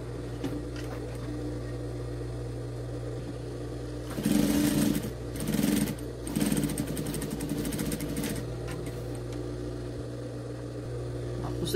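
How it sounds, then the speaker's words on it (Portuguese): A sewing machine runs steadily as fabric for a bathroom set with a toilet-paper holder and small towel is stitched all the way around its folded edge, with louder bursts of stitching in the middle stretch. "E vamos vir costurando ele todinho."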